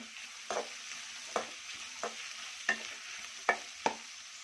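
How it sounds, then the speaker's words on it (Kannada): Vegetables and onions roasting in hot oil for masala uppittu, a steady soft sizzle broken by a handful of sharp stirring scrapes at uneven intervals, close and moderately quiet with no talking. "ತರಕಾರಿ ಈರುಳ್ಳಿ ಎಲ್ಲ ರೋಸ್ಟ್ ಆಗಲಿ"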